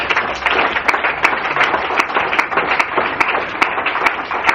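A church congregation claps and applauds together during a French-language worship service, a steady, fairly loud wash of many hands with sharp individual claps standing out at a regular rhythm, with no talking.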